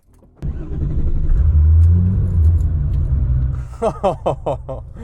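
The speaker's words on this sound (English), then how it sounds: "If we go ahead and fire up this car, the sound it makes is incredible. Listen to this." A Singer Porsche 911 engine cranks and fires up into a deep, loud rumble, then settles before a quick run of sharp revs near the end.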